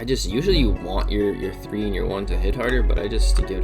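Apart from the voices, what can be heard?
No distinct noise like a dog, phone or traffic.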